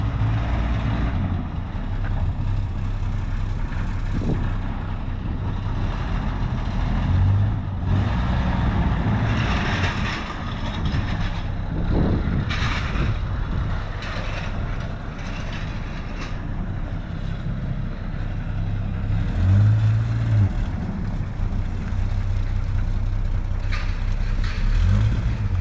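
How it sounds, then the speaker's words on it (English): A 1971 Chevy C10 pickup with a 250 engine drives steadily, a low, continuous engine drone and road rumble holding at an even level throughout, with brief swells as the revs rise. "Wake that old 250 back up, get some RPMs under her belt."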